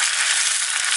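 Mustard seeds sizzle in hot coconut oil while being tempered for ash gourd buttermilk kulambu: a brief, close, continuous hiss with a faint pop.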